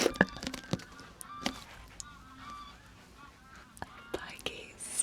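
Geese honk outdoors in the early morning, their calls scattered and fairly near, while someone whispers quietly close to the microphone.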